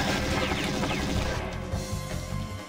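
Bullets strike bulletproof glass during a firefight in the video game XIII, a dense, continuous clatter of sharp impacts and crashes with gunfire layered throughout, loud and busy from start to finish.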